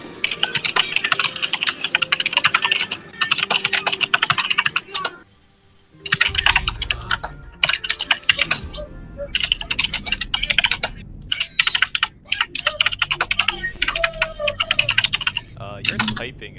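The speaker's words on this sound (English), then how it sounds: "Your typing is extremely loud." Loud, rapid typing on a computer keyboard, a dense run of clicks and clacks close to the mic, breaking off briefly near the middle and then continuing, with a faint voice at times.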